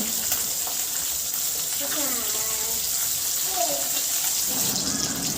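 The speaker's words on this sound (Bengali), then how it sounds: "এতগুলো মাছ একবারে ভাজা যাবে না, দুবারে ভেজে নেব।" Bangladeshi tangra fish fry in hot oil in a home kitchen, giving a steady moderate sizzle and hiss with occasional bubbling bursts, with a voice speaking faintly over it.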